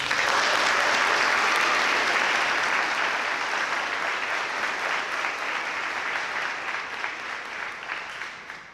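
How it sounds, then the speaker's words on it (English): Audience at a high school senior awards ceremony gives sustained applause, a dense steady clatter of many hands that slowly thins and fades toward the end. "And now the applause."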